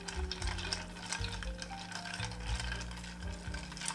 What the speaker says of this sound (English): We're going to get some ice in this and give it a stir.